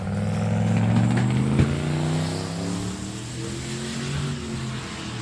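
A station wagon at a hot rod drag week event roars down the drag strip, its engine note rising then tapering off as it pulls away and fades into the distance.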